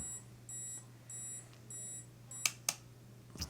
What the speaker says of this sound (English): you're gonna hear the self timer beep away for, I guess, about 10 seconds